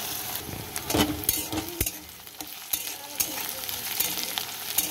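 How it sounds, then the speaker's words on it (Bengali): Chopped onion, ginger and garlic frying in oil, a busy crackling sizzle with occasional sharp clinks and scrapes of a utensil against the pan, close and fairly loud. "তো দেখো আমার ভাজা হচ্ছে পেঁয়াজ আদা রসুন।"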